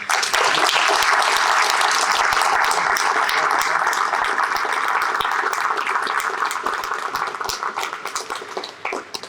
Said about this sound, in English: Can we give a round of applause to Jaden and the boys, please?